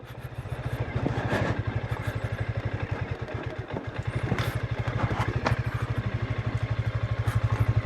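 A Suzuki V-Strom 160 motorcycle climbs a steep uphill road in Malico, its engine chugging in a steady, close pulsing beat with mechanical clatter throughout.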